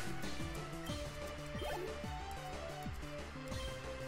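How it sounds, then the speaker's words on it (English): A Water Pulse attack in the Pokemon Sage video game plays as a watery, dripping splash effect over looping game music with a steady beat. "Take this water pulse to the face."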